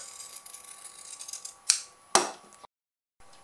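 Scissors snip notches into the seam allowance of sewn fabric, with two crisp, close cuts followed by softer handling sounds.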